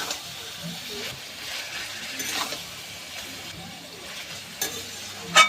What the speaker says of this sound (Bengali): এইভাবে খুন্তি দিয়ে অনবরত নাড়াচাড়া করতে থাকবো